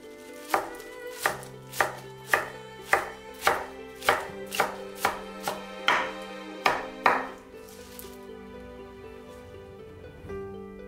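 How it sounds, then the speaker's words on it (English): A knife chops an onion and spinach on a board in about fourteen crisp, evenly spaced strokes, close and clear, before the cutting stops and only faint room noise remains. "Finely cut the onion. Roughly cut the spinach."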